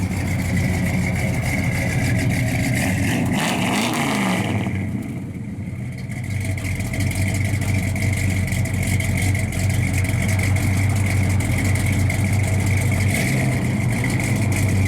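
A 1967 Chevrolet Chevelle SS 396 idles with a deep, steady rumble through 2.5-inch dual exhausts, holding a constant burbling tone throughout with a slight dip midway.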